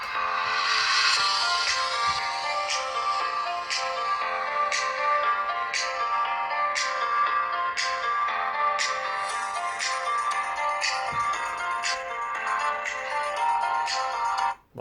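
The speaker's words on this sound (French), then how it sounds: "On va maintenant écouter le son du haut-parleur." An Oukitel C16 Pro smartphone's loudspeaker playing a bright ringtone-like melody of repeated plucked notes at full volume, thin and tinny with no bass, steady for the whole stretch.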